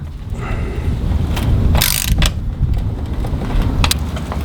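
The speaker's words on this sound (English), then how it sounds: "First with the socket and then with the front cap." A socket wrench working the front cap of the oil filter on a Toyota FJ Cruiser: close metallic ratcheting and clicking bursts over a loud, steady low rumble, with no one talking.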